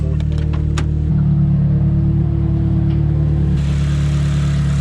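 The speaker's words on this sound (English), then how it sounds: "it might be hard to hear me because the car's running" A Nissan S15 runs at a loud, close, steady idle with a deep droning rumble, the engine note rising slightly partway through.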